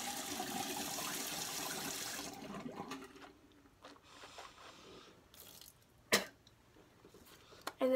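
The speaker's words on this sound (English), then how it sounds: "I'm gonna rinse my mouth out real quick." Water swishes and rinses in a mouth during a morning routine, a steady wet gurgling that stops after a couple of seconds, followed by faint shuffling and a small clack.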